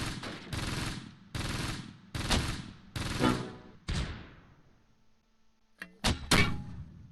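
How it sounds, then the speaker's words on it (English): Machine gun fire in the Close Combat World War II strategy game, Normandy 1944: four or five loud, evenly spaced bursts, each trailing off, followed by a short pause and then a couple more sharp close bursts. "we're not getting hits with the machine gun fire"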